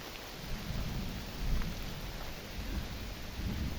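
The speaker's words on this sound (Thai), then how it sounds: "ฝนเริ่มตกหนักครับ" Heavy rain falls at a durian orchard during a thunderstorm, making a dense, steady roar. Low rumbling runs underneath it and swells briefly in the middle.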